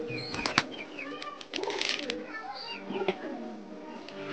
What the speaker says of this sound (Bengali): ওরা ওইখানে মারামারি ডাকাডাকি করছে